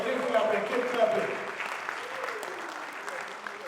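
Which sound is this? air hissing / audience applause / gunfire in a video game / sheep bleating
audience applause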